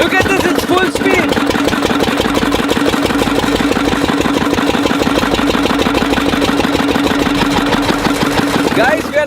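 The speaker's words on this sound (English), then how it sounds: "now the engine is running on biodiesel and there's not much smoke either" Diesel engine running on homemade biodiesel made from waste cooking oil, chugging steadily at full speed with a dense, continuous mechanical rattle, close and loud throughout.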